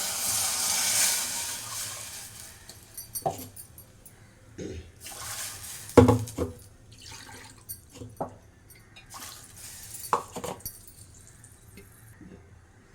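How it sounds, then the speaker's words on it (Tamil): Tamarind water pours and splashes into a pot in short bursts while making rasam, with drips, clinks and small kitchen noises in between. "இப்போ கரைச்சி வச்ச புளி தண்ணி ஊற்றுவேன்."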